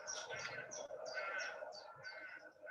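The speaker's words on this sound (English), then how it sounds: "Listen to the birds." Birdsong during an outdoor meditation, with repeated chirps and tweets sounding fairly close over a steady ambient bed for a few seconds.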